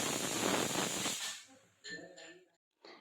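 A pressure cooker lets off steam in a loud, sustained hiss for about a second, then cuts off; a voice talks over quieter sounds afterward.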